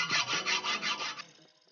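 A hacksaw saws a metal shaft with about six quick, rhythmic rasping strokes, close and fairly quiet, then stops.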